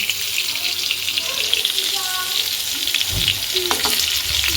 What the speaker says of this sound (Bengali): এবার বেগুনটা ভাজা হচ্ছে।